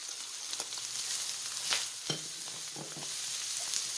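Chopped onion frying in a hot pan for a vegetable stew with shrimp, a steady broadband sizzle throughout with a few sharp clicks and scrapes of a utensil against the pan, close and moderately loud, no talking.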